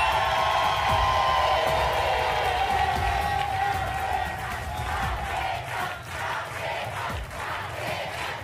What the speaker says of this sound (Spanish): Recibamos con un fuerte aplauso a mi querido